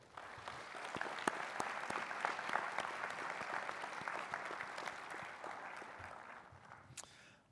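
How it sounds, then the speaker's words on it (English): A crowd applauds steadily for several seconds, a dense wash of clapping that stays even and then tapers off near the end. "please join me in a round of applause for your loved ones"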